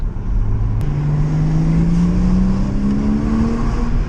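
Porsche fitted with an Armytrix exhaust running in quiet mode with the valves closed gives a muffled, steady engine drone that climbs slowly in pitch under acceleration, heard from inside the car, with no talking.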